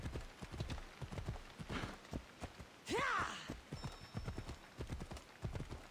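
Rapid rhythmic hoofbeats of a horse running in the video game Assassin's Creed Odyssey, steady and close, with a brief whinny partway through.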